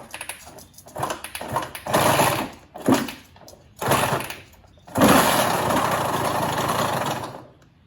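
A Suzuki RM85 two-stroke dirt bike engine with a worn bottom end sputters and revs in uneven bursts, then settles into a loud, steady, buzzing idle nearby.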